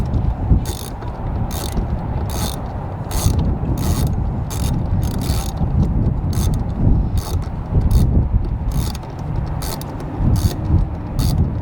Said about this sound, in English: So that's what we're doing right now, is we're just screwing that down.